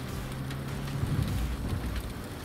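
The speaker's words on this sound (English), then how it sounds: "That is one hell of a storm!" A sandstorm in the Badlands of the Cyberpunk 2077 video game makes a steady, dense roar of blowing wind and grit that swells a little midway, with no speech.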